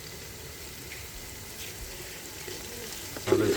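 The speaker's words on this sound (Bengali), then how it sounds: "আমরা পেঁয়াজ ভাজা হয়ে গেছে, আমরা রসুন দিয়ে দেবো।" Onions fry with garlic and ginger paste in a pan at an outdoor family picnic. A steady, close sizzling hiss runs throughout, with a brief louder burst of spatter near the end.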